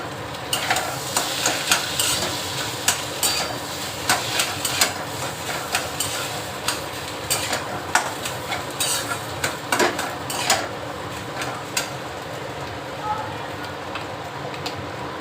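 Boiled potatoes are mashed by hand and stirred into fried spices in a pan for potato chops. There is a continuous frying sizzle with repeated scraping and clinking of a spatula on metal, while a voice talks intermittently.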